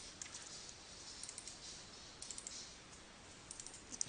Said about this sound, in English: I'm just holding down shift and clicking on these edges like this